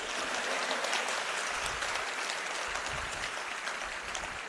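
A crowd at a Punjab Chief Minister Bhagwant Mann speech applauding steadily, a dense wash of clapping from many hands that holds at an even level for the whole stretch.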